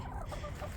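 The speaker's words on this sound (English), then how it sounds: "we have our chickens." Backyard chickens, including an Easter Egger, give soft, close clucks in a brief burst over low background noise.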